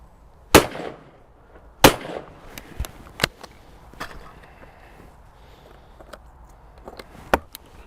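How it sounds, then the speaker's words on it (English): An over-and-under shotgun fires at clay targets outdoors, two sharp loud blasts about a second apart followed by several fainter cracks and knocks, with no talking. "I'm going to shoot a couple more with the over and under"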